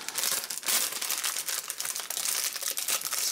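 A plastic bag holding Lego pieces crinkles and rustles continuously up close, bright and busy throughout with no talk.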